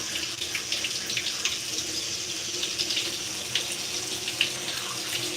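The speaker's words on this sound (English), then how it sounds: "I may rinse a little, but you know, it's just adding more water." Tap water runs steadily at close range while hair is rinsed during a wash-and-go curl routine, a continuous hiss with faint splashing and drips and no talk.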